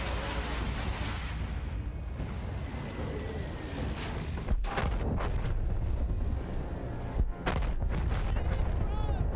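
Bombs falling and bursting during an air battle in a World War I style video game, with heavy rumbling blasts and sharp booms in rapid succession over a dense, continuous roar of combat noise.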